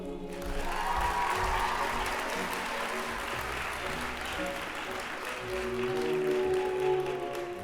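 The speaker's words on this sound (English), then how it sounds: "Let's have another round of applause for our master's degree students." An audience at a university graduation ceremony applauds master's nursing graduates, with sustained dense clapping that swells slightly near the end, filling a large hall.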